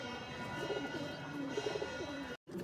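Malwai pigeons coo steadily in an indoor loft, a low layered rumble of overlapping throaty calls at moderate volume before a brief cut near the end.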